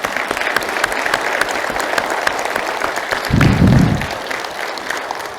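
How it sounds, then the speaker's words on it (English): A conference audience at a plenary session breaks into sustained, dense applause, a steady wash of many hands clapping throughout, with a brief low rumble of voices near the end. "can we give them a round of applause?"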